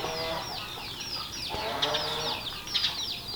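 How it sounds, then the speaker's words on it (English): Many chickens cluck and squawk continuously at close range inside a shed under construction, over a steady background hum, with a few louder bursts. "Those chickens are not supposed to be in there, I'm sure."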